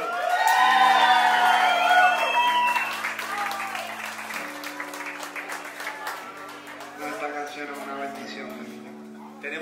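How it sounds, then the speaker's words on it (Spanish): A concert crowd applauds and cheers for Pablo at a show, loud, dense clapping with whoops over music and raised voices that fade gradually. "aplauso para Pablo"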